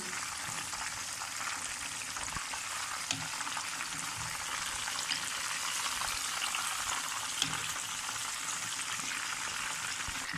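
Chicken pieces frying in a pan give a constant, dense sizzle with no break, and a few soft bumps come through as the pieces are turned.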